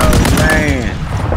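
Gunfire in Call of Duty Warzone, loud close bursts of rapid shots with ringing, swooping tonal effects trailing off, under a busy game mix.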